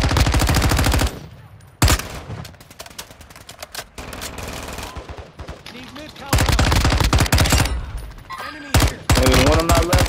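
Rapid automatic gunfire in Modern Warfare II, with loud close bursts broken by short pauses and quieter stretches, while players talk over the shooting.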